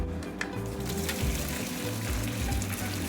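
Cooked penne pasta and its water pour into a strainer, a steady rushing splash with a hot hiss that carries on without pause and without talk.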